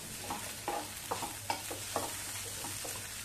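Tomato masala with garlic and ginger is sautéed in a pan for methi matar malai, a soft low sizzle with a handful of evenly spaced spatula scrapes, fairly quiet and without talk.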